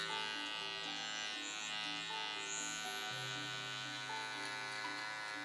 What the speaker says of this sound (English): I turn with my trimmer and I push that line higher